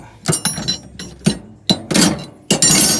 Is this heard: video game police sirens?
no